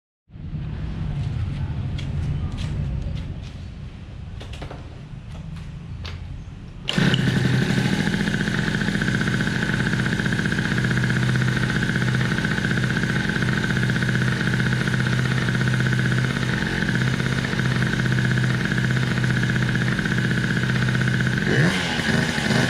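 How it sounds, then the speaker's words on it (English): Scooter fitted with a TWH black manifold and SWR 28mm carburetor starts after a few quiet seconds of background noise, then runs steadily and loudly at idle close by, with a brief voice near the start. "let's fire up the scooter and have a listen"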